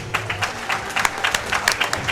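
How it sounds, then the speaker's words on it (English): One person clapping, a quick run of sharp hand claps at an uneven, slightly hurried pace, close and moderately loud, with a faint murmur of room noise behind. "I just clapped for myself because I'm kind of awkward"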